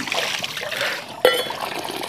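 Water poured by hand for bathing outdoors, a steady trickling and splashing stream with one sharper splash midway, close and moderately loud, no talking.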